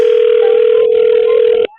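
A telephone tone sounds as one steady, loud, unbroken note for nearly two seconds, then cuts off abruptly, with no talking.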